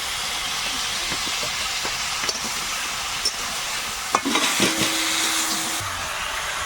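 Green chillies and tomato frying in oil in a pan for a home-cooked Bengali fish curry, a steady broadband sizzle throughout with a few light clicks and stirring scrapes near the end.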